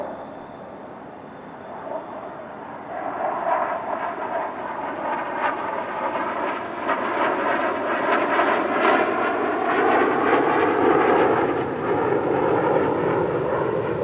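Su-35 fighter jets roar past in a flying display at the Dubai Airshow, the engine noise swelling from a distant rumble to a loud, sustained roar that holds steady to the end.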